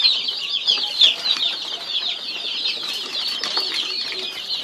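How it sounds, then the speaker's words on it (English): Young poultry in a heated brooder, close and continuous, with dense high chirping, soft clucks and occasional wing flutters as the chicks shuffle about. "You see the birds, they are all moving because of the heat here."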